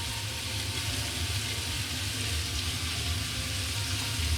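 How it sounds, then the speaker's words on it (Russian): Sweet and hot peppers with tomatoes fry on top of potatoes in a pan, making a steady, even sizzle that holds close and unbroken with no voices. "Пусть немножко прожарится."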